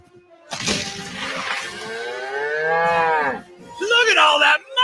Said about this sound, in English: That big old cash cow.